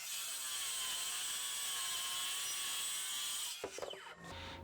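A power saw cuts a dado into a wooden cabinet piece, a sustained loud whine that breaks off near the end into clatter and handling noise.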